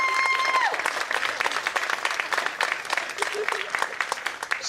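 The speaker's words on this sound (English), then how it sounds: "give yourself a gigantic round of applause" A crowd breaks into sustained applause, dense overlapping claps filling the space at steady volume after a brief tone fades at the start, with scattered voices mixed in.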